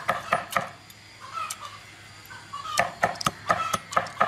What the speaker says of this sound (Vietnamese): Kể cả xương cũng băm vụn ra.